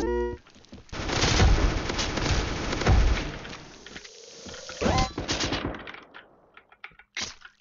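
Anti-aircraft gun firing in the video game Banana Shooter: a dense, loud rattle of rapid automatic shots lasting several seconds, with scattered game effects and a few trailing pops as the burst ends.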